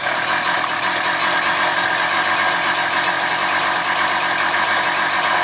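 Husqvarna 365 chainsaw engine running steadily at a fast, buzzing idle after starting, loud and close with no talk over it.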